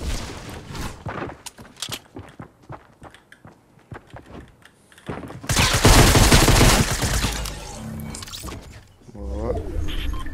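SMG gunfire in Fortnite: rapid bursts of sharp shots, first scattered then a dense volley, with a player talking over the action.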